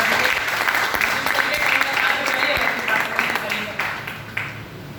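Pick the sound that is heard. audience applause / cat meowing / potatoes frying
audience applause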